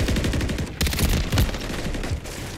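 Rapid automatic gunfire from a Modern Warfare match, loud, close and dense, with sustained bursts of shots running almost the whole way through.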